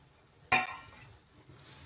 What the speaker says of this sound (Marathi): आता सोयाबीन अगदी मीडियम गॅसवर 3 ते 4 मिनिट आपल्याला छान या ग्रेव्हीत परतून घ्यायचे आहेत